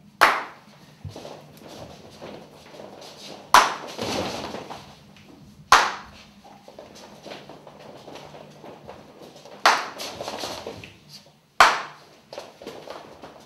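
A teacher in a school classroom gives single sharp hand claps at irregular intervals, loud and close, with busy room noise and footsteps between them.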